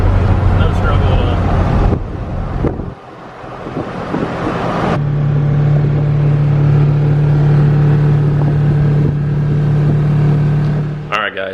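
An LBZ Duramax short-bed pickup truck drives and accelerates with a loud, steady engine rumble and wind noise, the drone rising as it picks up speed.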